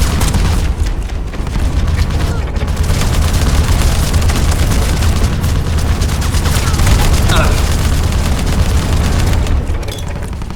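Gunfire in the Terminator Salvation video game, dense and loud throughout with heavy booms and rapid shots blending into a constant roar of combat, while speech runs underneath.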